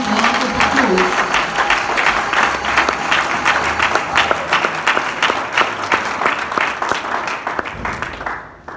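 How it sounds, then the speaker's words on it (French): A church congregation applauds, a dense, loud, sustained wash of many hands clapping with some crowd noise that carries on for several seconds before slowly tapering off. "Give the Lord a big round of applause."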